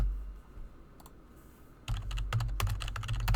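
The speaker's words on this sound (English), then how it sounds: "Where I'm typing." Keys are typed on a computer keyboard during a Paper Mario TTYD Remake gaming session, with a few isolated clicks early on, then a dense, close run of rapid keystrokes, with no talking.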